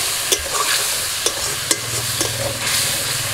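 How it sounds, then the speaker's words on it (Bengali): Spice paste with a splash of water fries in a pan, a steady loud sizzle with several sharp scrapes and knocks of a spoon stirring it, close and without voices. "মশলা বাটার অল্প একটু জল দিয়ে দিচ্ছি, দিয়ে এখন মশলাটা ভালো করে কষিয়ে নেব।"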